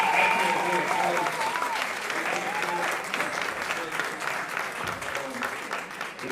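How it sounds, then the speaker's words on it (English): A community event audience gives the dancers a sustained round of applause, a dense, even wash of clapping that holds steadily throughout, with a few voices mixed in. "let's give a round of applause for the dancers"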